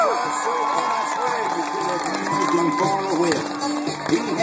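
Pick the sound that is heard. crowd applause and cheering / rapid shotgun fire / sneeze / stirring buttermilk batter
crowd applause and cheering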